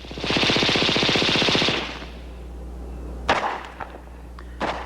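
A Heckler & Koch machine gun on a mount fires one loud, rapid automatic burst at a 1970s firepower demonstration, followed by a few scattered thuds and bangs.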